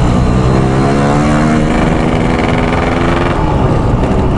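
A motorcycle running on two-stroke oil roars loud and close as the rider opens the throttle, a sustained buzzing drone that holds strong throughout with no speech.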